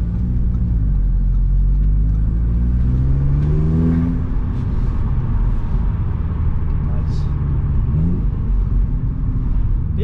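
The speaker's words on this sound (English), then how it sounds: "with the exhaust at the moment, with just the decat, pops and bangs quite nicely" Audi S3 8V with a decat exhaust, engine rumbling steadily up close with rising revs and an occasional crackle, heard under people talking throughout.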